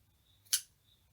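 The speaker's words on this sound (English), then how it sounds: "then I'll just cut it off the same length" A single crisp snip of scissors cuts through a length of yarn while crocheting an amigurumi teddy soft toy, close and clear against a quiet background.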